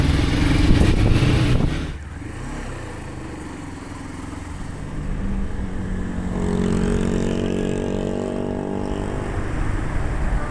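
Motorbikes passing along a city road with a separate bike lane, a loud engine roar that fades after a couple of seconds, then another engine droning and building steadily under constant traffic noise.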